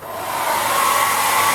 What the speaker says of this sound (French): je sèche avec mon sèche-cheveux pour gagner du temps